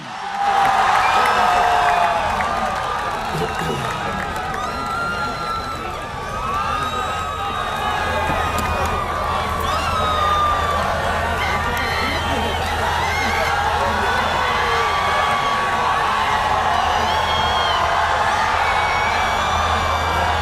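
An audience at GC University Lahore cheers and claps continuously through a speech event honoring Imran Khan, a dense wash of crowd noise, whistles and shouts held at steady loudness throughout.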